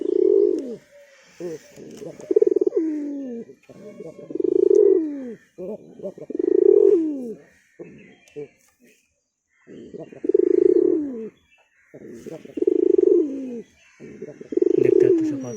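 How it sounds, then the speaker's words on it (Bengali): A hunting pigeon coos in repeated deep, rolling phrases about every two seconds, close and clear, with brief quieter gaps between calls. "এদিকে আমার শিকারি পায়রাটা আছে।"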